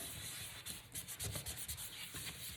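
Distress Oxide Vintage Photo ink rubbed onto paper, close dry scrubbing strokes in a quick uneven rhythm with short pauses between passes, and no talk.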